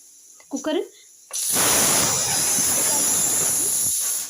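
A loud, steady hiss of steam bursts from a pressure cooker cooking lentils after a brief voice and keeps rushing for several seconds before tapering off.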